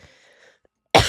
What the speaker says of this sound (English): Sorry, I did not mean to cough in the mic.